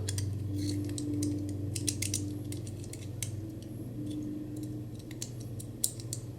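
Small clicks and scratchy mechanical ticks from the rotary lock being turned on a SOG Stout FLK folding knife, close and faint, scattered irregularly over a steady low hum.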